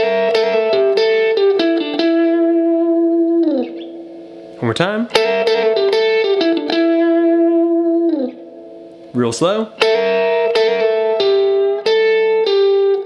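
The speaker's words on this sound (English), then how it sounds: "we're going to start off with one that's got a real bluesy flavor" A bluesy pentatonic lick on electric guitar through an effects unit, with two-note bends and sustained ringing notes played in phrases separated by short gaps, interrupted by someone speaking briefly.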